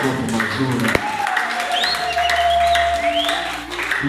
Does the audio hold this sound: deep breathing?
no